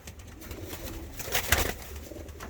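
Pigeons coo softly and repeatedly close by, low throaty calls overlapping with a brief flutter of movement in the middle.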